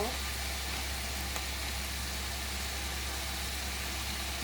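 Garlic and spices fry in a pan for a bottle gourd curry, giving a steady, fairly faint sizzling hiss that runs unbroken over a low background hum.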